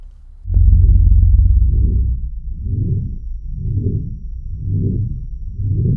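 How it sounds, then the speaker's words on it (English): A deep, muffled heartbeat thumps steadily in a slow rhythm, opening with a heavy low impact, loud and close with nothing else around it. "This is one of the main effect of this scene, a heartbeat."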